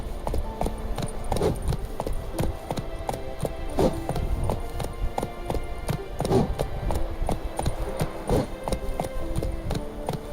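A horse gallops in The Witcher 3 with a fast, steady clip-clop of hooves that runs continuously and close for the whole stretch, over a low rumbling game background.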